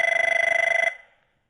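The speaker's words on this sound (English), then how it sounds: "Notice that it's the calling party's device that starts ringing" An Avaya IP desk phone rings for an incoming call, giving a loud, close electronic trill of rapid pulses that stops abruptly, then fades into silence.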